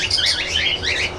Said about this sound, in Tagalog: Kumusta ikaw, munting ibon?